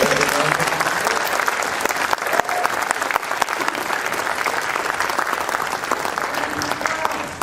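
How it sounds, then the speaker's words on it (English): A warm round of audience applause at the close of a panel conversation on state cannabis policy, loud dense clapping sustained for several seconds with scattered sharper claps standing out. "I wanted to give a warm round of applause to all of our"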